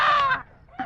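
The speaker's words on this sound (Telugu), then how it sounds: "కోడిని చూసి పట్టుకో" Chicken squawking as someone grabs at it, two short, sharp squawks separated by a brief pause, close and clear, with no talk over them.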